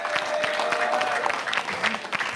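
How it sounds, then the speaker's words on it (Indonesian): A press conference audience after a presidential debate claps in a dense, sustained burst of applause, fairly close and even throughout. "Baik, tepuk tangan dulu dong."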